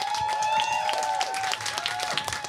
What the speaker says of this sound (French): Je vous demande d'accueillir sous vos applaudissements Jacob